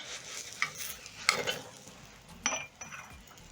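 A white layered chapati, just flipped, cooks on a hot pan with a soft, close sizzle broken by a few metallic clinks and scrapes of a utensil against the pan.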